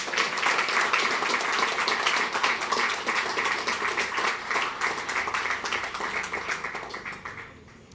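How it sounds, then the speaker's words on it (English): An audience gives a round of applause at a local sports club event, steady close clapping that holds for several seconds before tapering off. "I think that deserves a round of applause."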